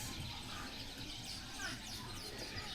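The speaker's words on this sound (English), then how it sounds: "The bird life is significant at this place." Birds calling at Dinokeng nature reserve north of Pretoria, scattered chirps and short tweets over a constant outdoor background hiss, with faint voices in the distance.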